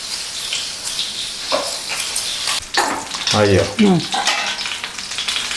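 Chicken sizzles and crackles in a hot pan, with occasional stirring scrapes and a voice talking briefly over the frying.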